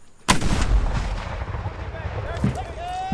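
A single heavy boom of cannon artillery fire during a drill, near and loud, followed by a long rumbling decay over outdoor background noise.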